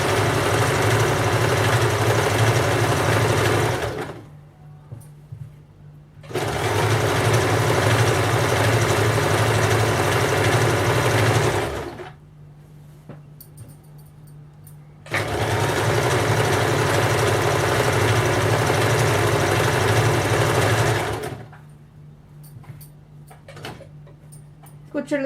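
An electric sewing machine double-stitches a seam on salwar pants, running in three long steady bursts of several seconds each, with quiet pauses between them; the motor hum is loud and close.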